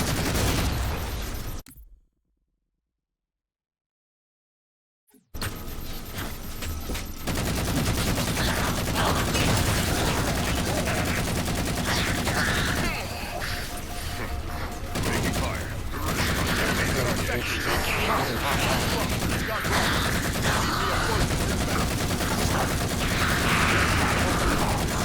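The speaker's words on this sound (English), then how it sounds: "Still firing at Bravo." Sustained weapon fire in Halo 4, a steady dense barrage of shots running almost continuously after a brief silent gap near the start, with game voices and mechanical clatter mixed in.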